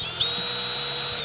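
Power drill driving screws into composite stair treads, a steady high-pitched whine running nearly unbroken for a little over a second, close and fairly loud with no talk.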